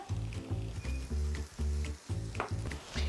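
Shrimp sizzling in butter in a frying pan, a loud close crackling sizzle with rhythmic pulses as the pan is stirred, no talking.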